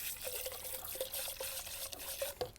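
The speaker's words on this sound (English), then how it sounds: "Rinse this out from the inside out because that pushes the leftover grinds off of the screen." Water runs and splashes while rinsing leftover coffee grounds from a Stanley Adventure French press screen, a faint close trickle with small drips, no talking.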